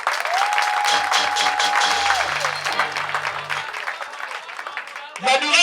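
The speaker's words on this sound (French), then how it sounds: "Je vous demande d'applaudir très fort." Loud, sustained applause from a crowd at a footbridge inauguration fills the clip, dense clapping with a brief sustained tone and some low rumbling underneath, fading slightly near the end.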